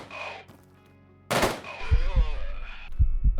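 Gunfire in Quasimorph: a loud burst of shots cracks out, followed by several heavy, thudding impacts at uneven intervals, close and prominent with no talk.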